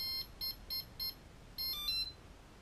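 Electronic speed controller for an ROV powering up, emitting a series of short high electronic beeps, four evenly spaced tones then a longer rising pair, faint in a quiet room.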